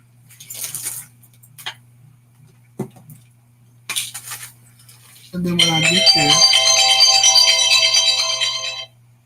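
Phone ringing with an incoming call, a loud sustained electronic ringtone with bright tonal layers lasting several seconds, following scattered bursts of speech and small noises.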